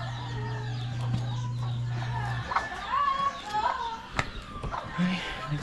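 Chickens in a backyard coop give scattered, short clucks at close range over a steady low hum, with a few sharper bird calls and rustling.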